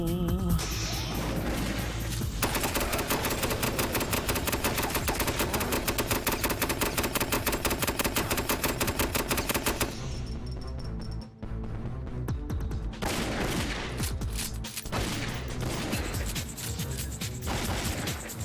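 Video game turrets firing machine guns, a loud, sustained rapid stream of automatic shots lasting several seconds, then scattered gunfire and crashes with a brief lull.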